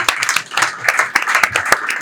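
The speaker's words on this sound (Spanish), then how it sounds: "Le damos un aplauso" Audience at a lecture-style conference claps in an irregular burst, individual hand claps standing out as sharp cracks over a steady patter that swells and dips across about two seconds.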